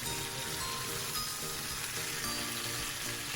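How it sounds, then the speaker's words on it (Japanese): Chicken skin sears in a pan over high heat with the released juices and leftover oil reducing around it, giving a dense, steady, close sizzle with no pauses. "この出てきた肉汁とか残った油とかを煮詰めつつ、強火でこんがりと焼いていきます。"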